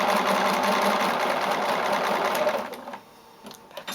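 Close and loud, a sewing machine stitches a fabric mask in a continuous fast hum of needle strokes for a few seconds, then slows and stops, leaving light clicks and quiet handling.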